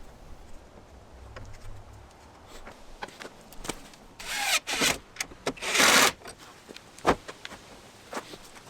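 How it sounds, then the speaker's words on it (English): Plywood for a truck camping platform is cut by hand, giving irregular rasping saw strokes with a few louder bursts in the middle, over a quiet background with no speech. "now you can see me cutting the plywood"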